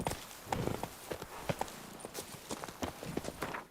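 Horse hooves clip-clopping in The Witcher 3, an uneven run of close, crisp hoof strikes at a walking pace, fairly quiet.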